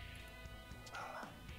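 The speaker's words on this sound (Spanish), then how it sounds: "El perro que ladra." A dog barks a few short, sharp times in the background, mid-distance and moderately loud over a steady low hum of noise, heard during a Free Fire game session.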